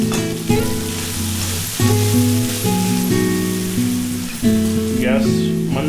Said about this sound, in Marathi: आता भाजी टाकलेली आहे, चिरलेली भाजी टाकलेली आहे आपण. आता ती थोडी तेलावर परतून घेतात.